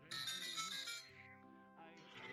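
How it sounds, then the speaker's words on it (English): Phone ringtone chiming in a short melodic pattern of bright electronic tones, faint and close, with speech-like sounds partly over it. "That was my phone"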